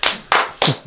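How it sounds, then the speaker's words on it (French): Three sharp hand claps in a home, close and evenly spaced about a third of a second apart, each a bright short burst. "On applaudit"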